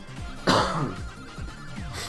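A single harsh cough bursts out near the mic, with faint game sounds and soft background tones around it.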